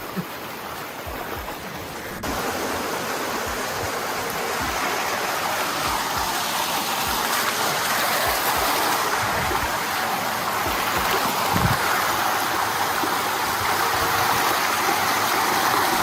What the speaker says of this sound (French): dans notre périple, il y a cette belle cascade, je la filmerai d'en bas